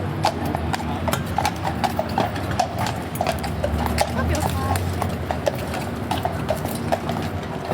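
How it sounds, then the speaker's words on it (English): Many hooves clip-clop steadily on a hard surface, a dense overlapping rhythm of several horses walking inside at the Changing of the Guard, Buckingham Palace, London, with a voice talking over the scene. "Horses going inside."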